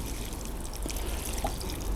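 Water trickles and splashes softly onto a freshly divided Stipa tenuissima grass plant, a faint, continuous pour with light drips and no speech.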